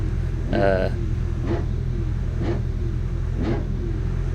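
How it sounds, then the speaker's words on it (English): A Peugeot 205 race car engine rumbles loudly and steadily, with its revs rising briefly about once a second. "That constant revving is Chris next to me in his 205."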